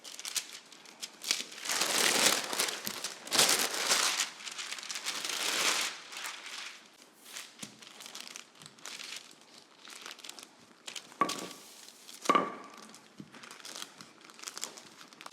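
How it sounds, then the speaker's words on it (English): Parchment paper sheets crinkling and rustling as dough is rolled out between two of them, close and fairly loud in repeated strokes, with quieter crackles and a few sharper crinkles toward the end, no voices. "I'm also rolling this out between 2 pieces of parchment paper"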